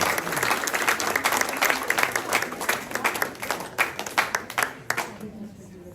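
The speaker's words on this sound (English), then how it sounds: "I don't want to step on his applause" Audience applause at a folk music concert in Rockville, Maryland, dense clapping that thins into scattered individual claps and fades out near the end.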